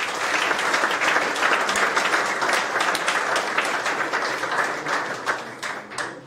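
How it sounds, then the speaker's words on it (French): Hearty audience applause after a lecture at a teacher-training institute, continuous dense clapping at even loudness from start to finish with no voices over it. "je vous invite à des applaudissements nourris"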